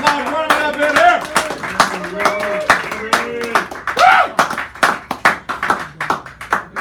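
A small café poetry-hour audience in San Francisco claps for poet Robert Rubino, scattered, uneven hand claps close by, mixed with someone talking over them for much of the stretch.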